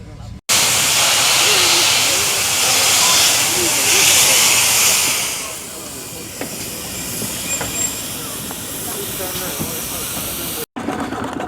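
Steam hisses loudly and steadily from an engine at the Gwili Steam Railway in Wales, a broad rushing blast for several seconds that then drops to a quieter background hiss with faint clanks.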